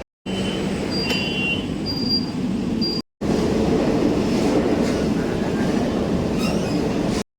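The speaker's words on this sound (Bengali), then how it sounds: "মেট্রো পেলাম ফাইনালি, লাস্ট মেট্রো" A late-night Kolkata Metro train runs loud and steady, with rumbling wheels and a rushing roar, then a brief break and more rolling rumble with faint squeals.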